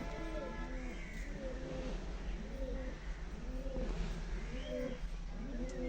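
Tournament racing pigeons coo just before being released, giving a steady series of rolling, repeated coos at close range over a low background rumble.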